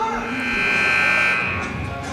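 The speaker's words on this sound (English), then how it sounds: "As the buzzer sounds, we're about to start the 4th quarter" A long, steady electronic buzzer at the Lawrence High School gym in Lawrenceville, New Jersey, marks the end of the third quarter of a girls' varsity basketball game against Princeton. It sounds loud and sustained for about two seconds over crowd noise.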